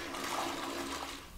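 A toilet flushes with a steady, close rush of water that holds evenly for over a second and tapers slightly at the end, with no voices.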